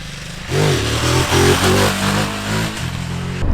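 A 2023 Ducati Desert X motorcycle rides on small, loose-sand trails, its engine close and loud, rising and falling in pitch with throttle changes and steady revving before it drops away at the end.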